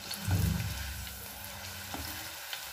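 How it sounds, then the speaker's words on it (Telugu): Slit green chilies and curry leaves frying in oil for an okra fry, a continuous bubbling sizzle close by, with a louder low rumbling burst near the start that then settles into steady crackling. "ఈ మధ్యలో ఒక ఏడెనిమిది పచ్చిమిర్చి సన్నగా చీలికలు చేసి అవి కూడా ఎర్రగా వేయించుకోవాలి"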